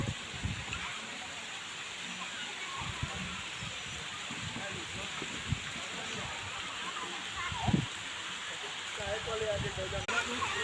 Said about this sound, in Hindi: देखिए किस तरह से बारिश हो रहा है।